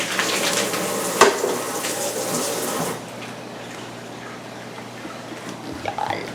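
Cornstarch-coated beef strips crisping in a hot pan for Peruvian lomo saltado, a steady close sizzle and hiss that drops lower halfway through, with a few faint stirring clatters.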